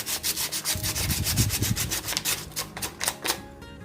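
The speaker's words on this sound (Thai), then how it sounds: "การขัดก็ เอา กระดาษทรายมานะครับ" Sandpaper scrubs back and forth on a coconut shell being shaped into a bonsai, with quick, rhythmic rasping strokes that are close and fairly loud, and no one speaking.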